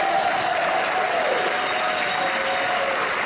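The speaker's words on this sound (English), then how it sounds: "Let's give all of our panelists one more round of applause, ladies and gentlemen." An audience at a panel discussion gives a steady, full round of applause for the panelists, dense clapping held at an even level throughout.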